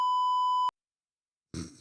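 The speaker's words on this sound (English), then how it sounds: "we had to have one beep" A loud, steady censor beep lasts a bit over half a second and cuts off abruptly. After a pause, a short burst of speech follows.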